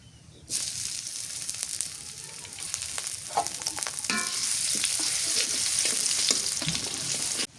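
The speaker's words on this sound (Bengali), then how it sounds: "সরিষার তেল দিয়ে দিলাম রসুন দিয়ে দিই" Garlic frying in hot mustard oil in a pan, a loud close sizzle that bursts in suddenly and then holds steady, crackling and spitting, with clatters of stirring layered over it and no talking.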